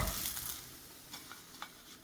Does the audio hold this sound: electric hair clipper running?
no